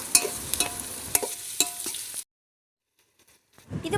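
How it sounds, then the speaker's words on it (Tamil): Chopped onions sautéing in a pan for mutton biryani, cooked on a rooftop, with a busy sizzle and sharp stirring scrapes for about two seconds, then near silence before the frying picks up again. "ஆனியன் நல்லா கோல்டன் கலர் வர வரைக்கும் வதக்கிக்கலாம்"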